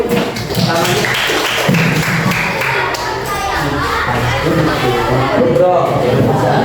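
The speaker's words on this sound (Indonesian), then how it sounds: "tepuk tangan untuk dia dulu" A classroom of students applauds a classmate, dense overlapping claps and taps forming a steady wash of sound, with chatter and voices mixed in throughout.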